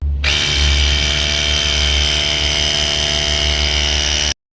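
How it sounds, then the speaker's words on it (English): A portable air compressor inflating a car tire starts abruptly and runs at a loud, steady, mechanical drone with a buzzing whine for about four seconds before cutting off. "Now this is an air compressor, so it's going to be pretty loud"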